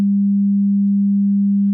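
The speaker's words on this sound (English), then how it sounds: "If we were to double this frequency, we would be at 200 Hz," A steady, pure low 200 Hz sine tone at a single pitch, continuous and unchanging for nearly two seconds before cutting off.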